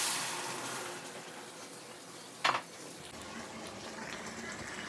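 Boiled chickpeas and water poured into masala frying in a pan give a soft watery hiss and sizzle, with one short louder splash partway through.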